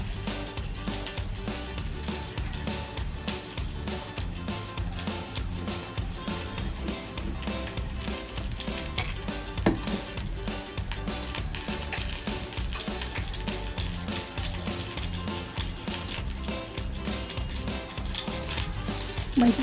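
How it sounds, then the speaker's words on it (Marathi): Eggplant sautés in a small kadhai over a low gas flame, giving a soft, steady sizzle with occasional light scraping and clinks of a spatula against the pan, close and fairly quiet, with no voices. "आता आपण कमी गॅसवरती परतवायला आली."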